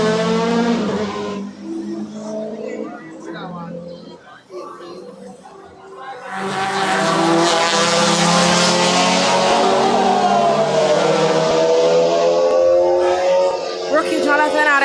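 Race cars on track at the JRDC Carnival of Speed, engines droning and rising to a loud, sustained roar in the second half, with commentary voices over the top throughout.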